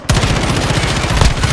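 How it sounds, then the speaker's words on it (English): Rapid automatic gunfire from a Call of Duty Modern Warfare (2019) match, a loud, continuous burst of evenly spaced shots running without pause, close and dominant with no talking. "I was shooting at a dead body"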